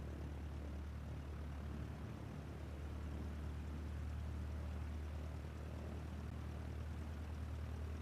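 An airplane taxiing in a flight simulator game, with a low, steady engine drone and propeller hum held at constant level throughout, no voices.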